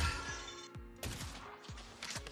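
Gunfire in the mobile game Mobile Legends: about five sharp, rapid shots in quick succession, with mechanical clicks between them, played fairly quietly.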